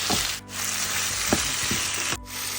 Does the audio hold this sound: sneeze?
no